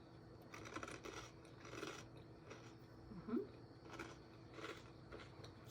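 Soft, repeated crisp crunches of chewing a crostini with creamy feta dip close to the mic, a few irregular bites spread over several seconds in a quiet room.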